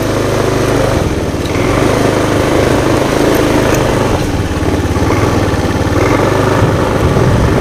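A Honda motorcycle engine, recently repaired after sputtering and stalling, runs at low throttle with a loud, steady close-up drone and slight surges, no talking over it.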